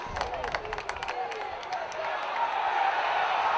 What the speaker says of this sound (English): Crowd screaming for a penalty.